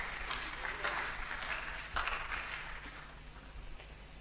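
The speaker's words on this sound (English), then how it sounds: "Let's clap for them." A small group at a school quiz applauds a team, a soft, fairly faint spatter of clapping that swells briefly and then tapers off, with no talk over it.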